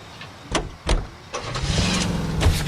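A car in the video game LA Noire: a couple of door-like thumps, then the engine starts and settles into a low, steady idle.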